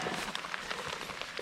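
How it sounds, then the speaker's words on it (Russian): Rain starts falling outdoors near Pripyat, a steady patter of drops hitting surfaces close by with small irregular taps throughout. "дождь высадился"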